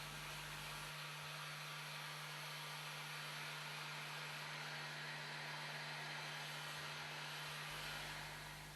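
Heat gun drying leather car upholstery during renovation, a constant loud blowing whir with a steady hum held for the whole stretch, close and uninterrupted.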